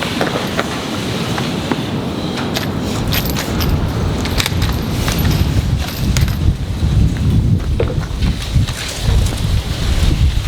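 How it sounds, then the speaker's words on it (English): Strong wind buffets the microphone outdoors at a shooting range, a steady loud broadband roar with gusty surges throughout and no talking. "It's a lot of wind."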